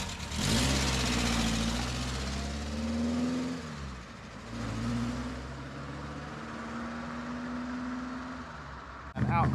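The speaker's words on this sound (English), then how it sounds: "Sunbeam Alpine is departing." A Sunbeam Alpine pulls away from a car meet, its engine note rising and falling with throttle in two clear pushes, close and fairly loud over outdoor crowd noise.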